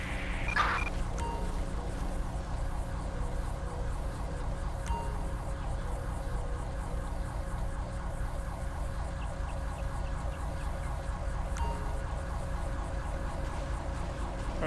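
A steady ambulance siren in Grand Theft Auto V wails continuously alongside a constant engine hum, with a brief clatter near the start.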